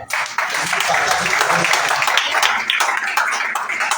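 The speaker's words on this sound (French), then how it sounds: "Si tu es d'accord avec cette réponse, acclame bien quand même." A congregation in church claps and cheers, a steady, fairly loud wash of applause that goes on throughout, with voices mixed into the crowd noise.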